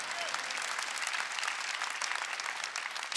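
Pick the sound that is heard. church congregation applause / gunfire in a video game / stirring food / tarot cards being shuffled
church congregation applause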